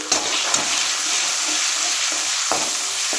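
Tomato paste frying in a pan for a bitter gourd kofta curry, giving a bright, hissing sizzle with a few soft stirring knocks, steady and close without speech.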